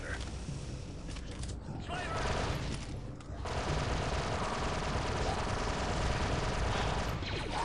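Dense, continuous blaster and gunfire from the video game Star Wars Republic Commando, a loud unbroken barrage of rapid shots and impacts that fills the whole stretch, with game effects layered on top.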